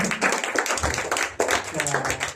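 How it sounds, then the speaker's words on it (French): A church congregation claps hands at a New Year's Eve communion service, with rough bursts of clapping and a voice speaking over the noise. "Let us clap our hands."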